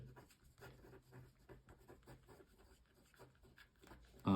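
Handwriting on paper scratches steadily for several seconds, a run of short rhythmic pen strokes heard up close with no talking, ending in a sudden louder knock.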